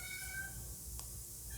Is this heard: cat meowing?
yes